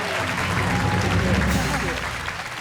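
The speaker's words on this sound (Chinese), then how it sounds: "掌声鼓励一下" An audience at a Hakka community meet-and-greet show applauds, dense continuous clapping filling the room at close range for a couple of seconds, with voices mixed in underneath.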